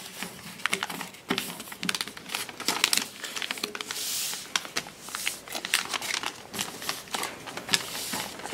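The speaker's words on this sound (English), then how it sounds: "You would take this part and fold it down to the end of your paper." Sheet of paper being folded into a paper airplane, a run of close crinkling, rustling and sharp creasing crackles, irregular and fairly quiet, with no voices.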